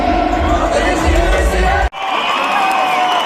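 A concert crowd at a show roars with loud cheering, shouts and whoops, then cuts abruptly to a thinner continuing crowd din with clapping.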